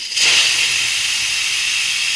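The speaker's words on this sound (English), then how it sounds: "there should be just a little bit of steam in here" Steam hisses loudly from a pressure cooker valve, starting with a brief rise and then holding a steady, continuous hiss.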